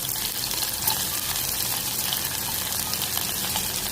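Chopped onions sautéing in hot oil for brinjal gravy, giving a dense, steady hiss of sizzling that stays loud and close throughout, with no talking.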